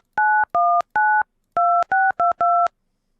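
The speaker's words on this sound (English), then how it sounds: "Just enter or say your 10-digit phone number or your account number." Touch-tone telephone keypad dialing a ten-digit phone number: seven crisp dual-tone beeps, each lasting about a quarter second, in an uneven rhythm with a short pause after the third, loud and clear with no voices.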